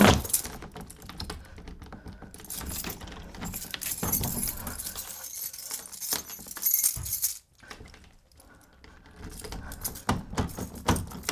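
A bunch of keys jangles and rattles close by in bursts over several seconds, with a brief quiet patch midway before more clinking resumes; no one speaks.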